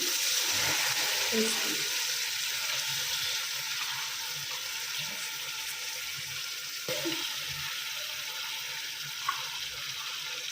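Chopped onions sizzle steadily with ginger garlic paste in a pan for a Telangana-style mutton curry, a dense, even frying hiss running throughout with a few soft stirring clicks.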